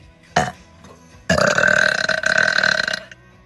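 A woman lets out two burps during a livestream, a short one first and then a long, loud, drawn-out belch lasting nearly two seconds, close to the microphone.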